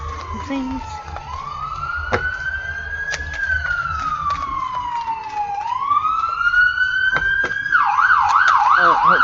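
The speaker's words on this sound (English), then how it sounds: "I just hate the sound of sirens." An ambulance siren passes by, its loud wail rising and falling in long sweeps before switching to a rapid yelp near the end, over steady traffic rumble.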